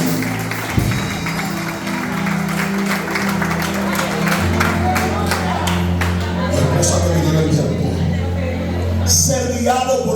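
Congregation applauding in a church service, a sustained wash of clapping and crowd noise with a few whoops, mixed with a voice and background music.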